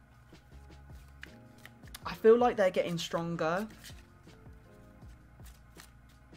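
Tarot cards are shuffled in a quick burst of riffling and flapping, close to the microphone, with someone talking over and around the shuffling.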